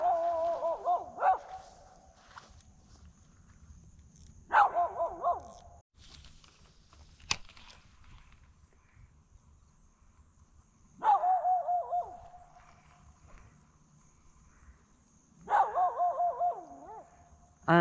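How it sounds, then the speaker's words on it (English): A dog barking repeatedly beside a bass fishing lake, with bursts of yelping barks and whines spaced several seconds apart, moderately near over a quiet outdoor background. "I'm honestly not sure how much of that dog barking I can even handle"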